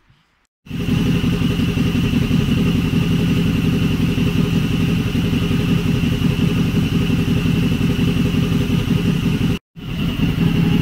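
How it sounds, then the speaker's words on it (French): A 2014 Suzuki DL650 motorcycle engine starts up and idles loudly with a steady, throbbing putter, cutting out briefly near the end before catching again. "on va démarrer la moto"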